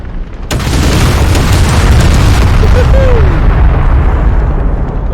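Rocket explosions in Men of War: Assault Squad 2, a sharp loud blast followed by a sustained heavy rumbling roar of further booms that stays dense and loud to the end, with no speech.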